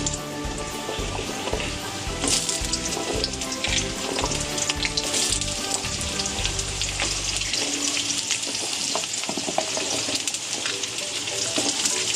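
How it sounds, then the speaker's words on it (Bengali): Potato pieces fry in hot oil left over from lentil boras, giving a steady, loud, close sizzle that runs unbroken throughout with faint stirring clatter. "দেখতেই পাচ্ছেন আলুটা ভেজে নিচ্ছে।"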